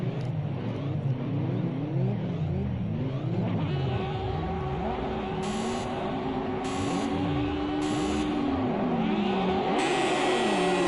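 Race cars launch off the start at the Long Beach street circuit, engines revving hard and climbing in pitch through repeated upshifts, several cars howling together with a constant roar.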